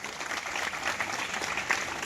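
Steady applause from an audience at a school farewell ceremony, honouring teachers who won a state best-teacher award; dense, continuous clapping with no one speaking.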